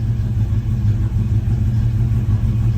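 A 1973 Plymouth Satellite engine, in doubtful health after sitting for years, idles steadily with a deep low rumble, close and continuous without talk.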